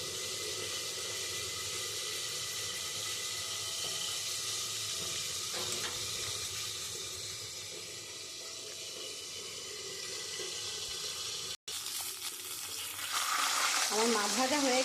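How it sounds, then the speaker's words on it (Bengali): Rui fish fries in hot oil in a home kitchen, a loud, steady sizzle and crackle that carries throughout, with stirring sounds, a brief break and a hiss of spattering near the end. "আমার মাছ ভাজা হয়ে গেছে"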